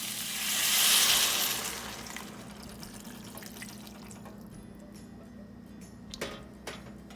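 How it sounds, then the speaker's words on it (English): Vegetable broth is poured into a pot of cooking vegetables for sweet potato soup, a brief splashing gush that settles into a soft sizzle and faint ticking. "now we are going to add our vegetable broth"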